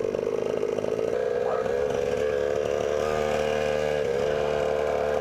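Small mini motorcycle with a fairing running steadily, a buzzy, raspy engine drone holding a fairly even pitch with slight wavers, close and continuous, with faint voices in the background.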